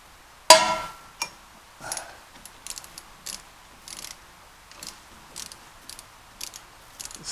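A ratchet turning a 13 mm socket on a loose screw: one loud initial clack, then a series of quiet, evenly spaced clicks as the handle swings back and forth, close by.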